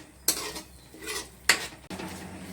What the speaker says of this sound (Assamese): এনেকৈ লৰাই থাকিব লাগিব মিক্সাৰ হোৱালৈকে।